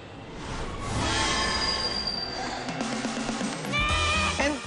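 A Dutch NS passenger train with wheels squealing on the rails, a loud metallic screech over rumbling rolling noise that swells and eases over a few seconds, heard up close.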